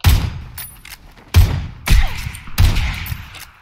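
Heavy gunfire in PUBG, fired in War Mode: four loud, booming shots or short bursts, spaced roughly half a second to a second apart, each with a sharp thudding attack and ringing tail, no talking.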